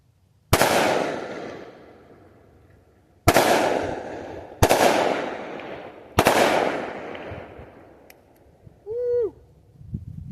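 A .357 Magnum 2-inch snubnose revolver firing semi-jacketed 158-grain rounds outdoors, four sharp loud shots spaced a second or more apart, each trailing off in a long echo, followed by a brief high wavering call.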